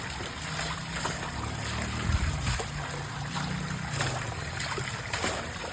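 Flowing stream water rushing and trickling steadily, a broadband wash close by, with light rain and occasional low bumps and hum beneath it.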